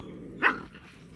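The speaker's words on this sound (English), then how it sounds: "Lovely little dogs, these." A single short bark from one of the abandoned puppies, fed in woodland in Thailand, rises sharply at mid-clip over a low steady background hum, fairly close and moderately loud, with no talking.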